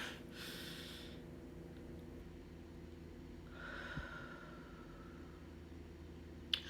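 A person draws slow breaths in through the nose, two soft sniffing inhales a few seconds apart, faint and close with quiet room hiss between them.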